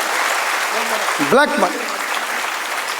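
An audience claps steadily at a Hindi poetry recital, a dense wash of applause running throughout while a voice briefly speaks over it.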